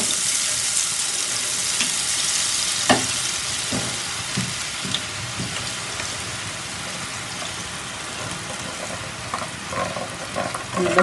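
Boondi batter dripping into hot oil for Diwali kara boondi, a steady broad sizzle and crackle of frying with brief louder bursts as drops hit the oil, no talking over it.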